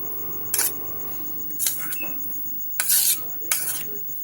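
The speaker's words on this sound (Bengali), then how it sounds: "সেই মূলোটার মধ্যে আমি স্বাদ মতন লবণ দিয়ে দিলাম। দিয়ে আমি ভালো করে মিশিয়ে নেব।" Grated radish mixed with salt in a bowl by a utensil, producing four sharp, close clinks and scrapes against the bowl at irregular intervals over a quiet background.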